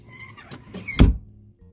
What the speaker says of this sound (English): So I'm going to go ahead and shut the door.